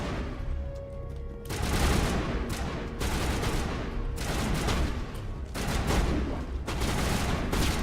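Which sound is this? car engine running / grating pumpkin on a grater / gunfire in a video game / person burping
gunfire in a video game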